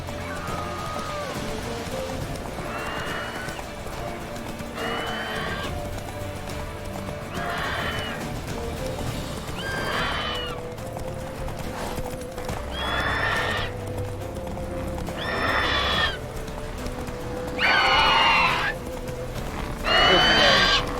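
Roach, a horse in The Witcher 3, whinnies and neighs again and again over galloping hoofbeats and a rain-like patter, with a voice talking in the background.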